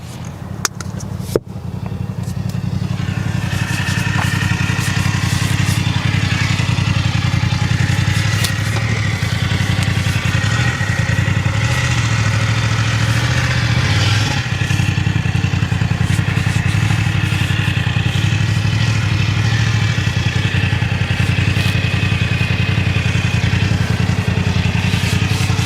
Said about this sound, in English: we have a loud motorbike next to us now